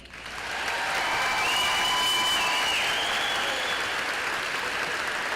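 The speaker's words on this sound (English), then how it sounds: "hearing her name called, followed by thunderous applause" Thunderous applause from a large crowd at a high school graduation, swelling in quickly and holding steady and loud as a dense, sustained wash of clapping with a few faint whistles or cheers riding on top.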